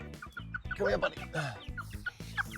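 Egg-laying hens on a one-acre homestead cluck in short, close bursts in their pen, a person speaking softly among them.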